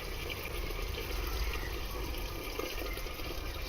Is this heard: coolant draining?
yes